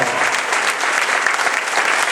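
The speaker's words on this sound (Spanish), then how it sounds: "Den un aplauso al Señor." A church congregation at a revival meeting breaks into loud, sustained applause, a thick continuous clapping that fills the room with no talk over it.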